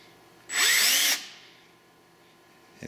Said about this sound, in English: Kind of see the drill now moving in as I twist the wire.